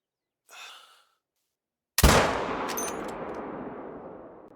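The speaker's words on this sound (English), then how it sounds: "That might have been a good shot." A single loud, sharp rifle shot in the hunting game theHunter: Call of the Wild, with a long reverberant tail rolling off over several seconds, preceded by a brief faint breath.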